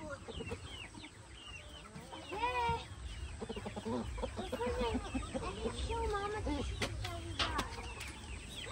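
Chickens cluck repeatedly in a farmyard, several birds overlapping with short rising and falling calls at moderate distance, over a steady low background hum and some clattering.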